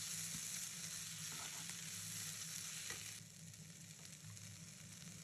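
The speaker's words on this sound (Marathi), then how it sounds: "चांगलं फ्राय करून घ्यायचं." Chopped green chillies frying in a pan for mushroom Manchurian make a dense, steady sizzle with a constant low hum and brief stirring scrapes, loud and close, with no voices.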